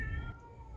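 A single short meow from a cat in heat, faint and distant, over a low background hum.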